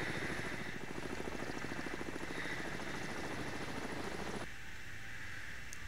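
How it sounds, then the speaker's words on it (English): Helicopter passing overhead in the submarine video game Cold Waters, a steady chopping rotor thump that fills the first four seconds and then cuts off abruptly, leaving faint background hum. "I did just hear a helicopter go over me."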